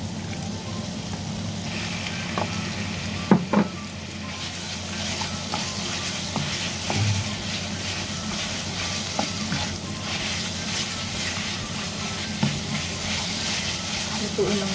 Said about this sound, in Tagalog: Then ilagay na po natin yung marinated beef.